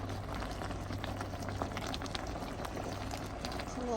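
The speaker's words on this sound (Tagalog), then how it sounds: "Ayan, kuluan lang natin." Pinakbet vegetable stew with fried eggplant boiling in a pot, a dense, steady bubbling and popping simmer heard close and alone for the whole stretch.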